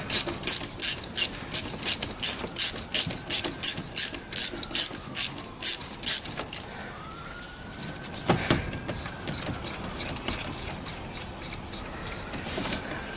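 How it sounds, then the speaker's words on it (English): A hand ratchet clicks in a fast, even series of close, crisp ratcheting bursts as it works a bolt loose on a 2007 Toyota Prius during a water pump replacement, then stops and leaves a few faint mechanical knocks. "And now we can release this bolt."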